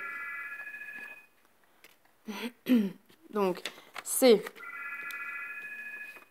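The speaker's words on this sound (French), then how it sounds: "j'ai le téléphone qui sonne" A telephone rings with a steady electronic warbling tone, sounding for about a second, going quiet while a person speaks briefly, then ringing again at a moderate level.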